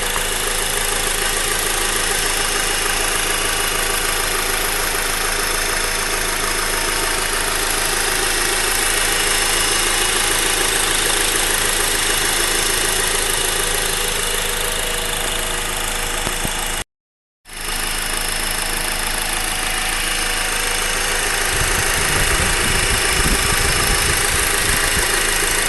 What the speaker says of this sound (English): It's coming from the engine block, it sounds like.